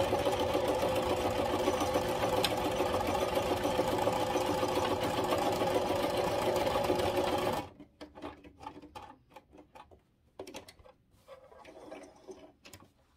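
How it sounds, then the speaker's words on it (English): A sewing machine stitching a Halloween cushion seam runs in a steady fast close whir for several seconds, then stops, leaving scattered small clicks and handling noises. "I'm just gonna stitch down, so that gives me about a 3-inch opening to be able to turn this the right side and to stuff it."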